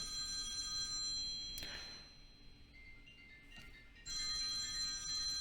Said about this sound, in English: you hear my work phone going off